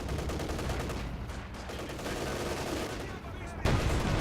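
Dense video-game gunfire as a Panzer attacks infantry squads, with rapid machine-gun bursts and overlapping shots in a continuous loud barrage and a heavier blast near the end.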